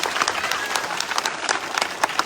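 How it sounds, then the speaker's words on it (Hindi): A crowd applauds a teacher receiving a trophy at a political rally in Rajasthan, dense steady clapping with scattered sharper claps, fairly loud and close. "इस बहन के लिए तालियां बजाइए प्राची वाल्मीकि के लिए"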